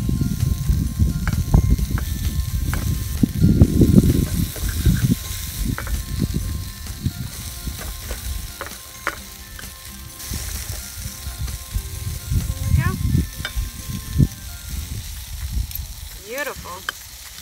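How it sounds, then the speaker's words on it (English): Sausages sizzling in a pan over a wood-burning stick stove outdoors as a knife slices through them, with continuous crackling sizzle, ratcheting scrapes and knife clicks, while someone talks at times. "I'm gonna slice them up right in the pan."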